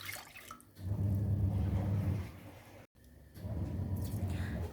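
Warm water poured into a bowl for pizza dough, a steady splashing stream that briefly stops and then resumes, close and fairly loud.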